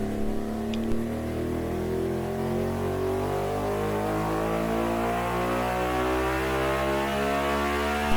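Ducati Monster 937 motorcycle engine pulling hard through the gears toward a 160 mph top speed, with rising revs and shifting engine tones under steady wind roar, loud and continuous throughout.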